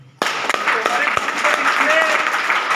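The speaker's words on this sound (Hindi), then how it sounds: "सुरेश यादव सर के लिए ताली बजा दीजिए सर" An audience bursts into applause for Suresh Yadav at a gathering in Ayodhya, the clapping starting abruptly and holding steady and fairly loud, with a few sharper claps and a voice briefly heard beneath.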